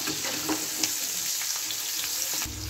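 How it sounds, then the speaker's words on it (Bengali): Capsicum and onion sizzle in hot oil for a chilli prawn dish, a steady close frying hiss with a few soft stirring scrapes and no talk. "একটু হালকা করে ভেজে নেবো এটা ক্যাপসিকাম আর পেঁয়াজটা।"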